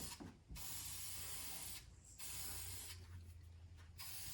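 A spray paint can sprays black paint on a farm truck during an EFI install, giving close, loud hissing bursts with brief pauses between them.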